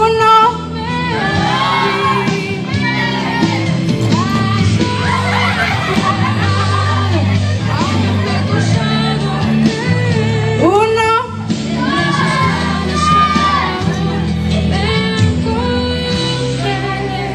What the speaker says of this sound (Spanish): las muchachas que están aquí atrás van a gritar